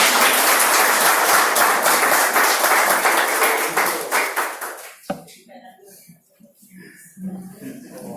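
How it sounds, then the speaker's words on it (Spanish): Church audience applauds a couple, dense clapping filling the first five seconds before fading out, then a few scattered claps and quiet room noise remain. "un aplauso para ellos"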